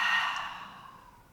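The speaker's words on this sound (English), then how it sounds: "Open your mouth, breathe out." A single long exhale through an open mouth during a Hatha yoga session, a breathy, airy sigh that starts strong and fades gradually, close and alone.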